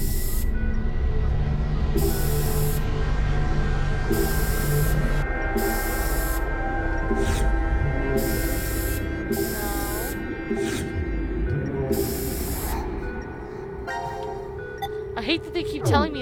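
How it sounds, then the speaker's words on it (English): A luminol spray bottle in Zero Time Dilemma gives repeated short hissing bursts, about eight sprays in a rough rhythm over a steady hum, followed by some clicks and electronic tones. "I'm spraying for a reason."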